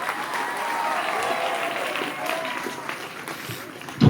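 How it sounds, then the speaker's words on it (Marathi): An audience at a gathering bursts into sustained applause, with dense clapping holding steady for several seconds and swelling loudly at the very end. "त्यांच्याकरता जोरदार क्लॅपिंग करा"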